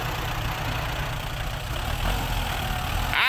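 A farm tractor's engine idles nearby with a low, steady rumble and faint knocking, running evenly throughout with no voices over it.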